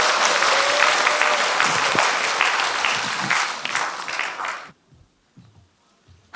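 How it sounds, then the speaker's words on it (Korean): An audience at a Korean rural basic income coalition launch ceremony claps in loud, dense applause for several seconds, then it stops abruptly, leaving near silence with a few faint thumps. "다시 한번 큰 박수 부탁드립니다."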